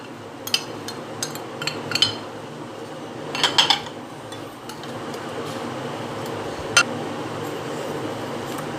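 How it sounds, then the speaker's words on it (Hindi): Dry spices for achar gosht masala are stirred together in a bowl, giving light scattered clinks and scrapes of a spoon against the bowl over a faint steady background hum. "हम इन सबको जो है एक बाउल में मिक्स कर लेंगे"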